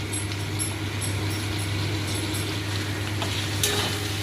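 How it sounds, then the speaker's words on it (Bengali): Chopped onion with ginger paste and garlic paste frying in a pan, giving a steady, soft sizzle throughout with a faint clink near the end. "ভালো করে এটা ভাজা ভাজা করে নেব, কষিয়ে নেব।"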